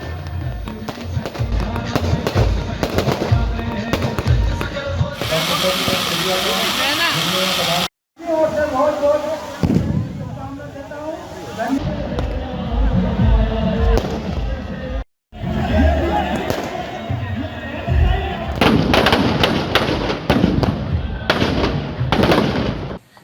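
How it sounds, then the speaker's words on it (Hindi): Loud fireworks burst at the burning of a Ravana effigy during a Dussehra celebration in Ujjain, with rapid crackling volleys and booming explosions in dense clusters, broken by two brief cuts, and a crowd faintly behind. "इसके पश्चात जोरदार आतिशबाजी के साथ रावण दहन किया गया।"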